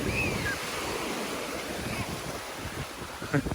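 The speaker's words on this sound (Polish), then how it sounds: "O, jaka fala idzie." Ocean waves breaking on a beach in Zanzibar, with continuous surf wash and wind buffeting the microphone and a brief splash near the end, heard close and fairly loud.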